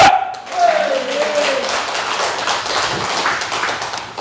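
Church congregation clapping together during a lively worship service, a dense, steady patter that continues for several seconds, mixed with voices and a brief whistling tone at the start.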